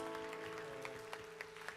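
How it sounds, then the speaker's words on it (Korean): A church congregation at a young adults' worship service applauds its leaders. The clapping is soft and distant, with a few sharper claps above a steady hum that sounds like a held organ or keyboard tone. "다시 한번 축복의 박수"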